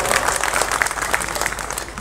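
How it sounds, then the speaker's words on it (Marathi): An audience at a public political gathering applauds together, a dense burst of close, energetic clapping that holds strong for the whole moment. "बहिणींच्यासाठी एकदा जोरदार टाळ्या वाजवा आपण"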